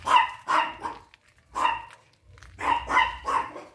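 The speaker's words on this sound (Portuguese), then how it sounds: "Vocês estão ouvindo aí o porquê, né?" A small dog barks in short bursts beside a guava tree in a home garden, sharp and close, with several yips in quick groups separated by brief pauses.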